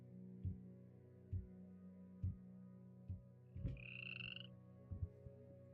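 Frogs in the video game Minecraft croak in a slow, even series of low, throaty calls, with one brief higher warble partway through, over a quiet background drone.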